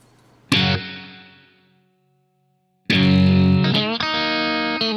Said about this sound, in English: Well, add some reverb. There you go. Spring reverb. Way too much.